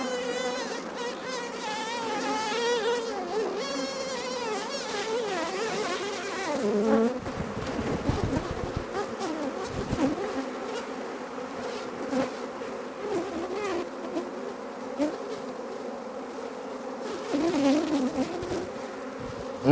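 Honey bees hum steadily from an open hive being inspected frame by frame, a dense continuous buzz close to the microphone with no talking.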